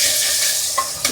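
Egg curry ingredients fry and are stirred in a pan, a steady close sizzle with two brief scraping stirs near the end.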